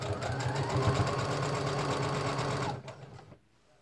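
A sewing machine runs at a steady fast stitch for close to three seconds, a close, even mechanical whir and rattle, then stops, leaving near silence.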